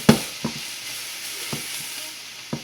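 Chicken stir-fry hisses steadily in a hot pan while a spoon scrapes and stirs it, giving a few distinct knocks spaced about a second apart over the continuous sizzle.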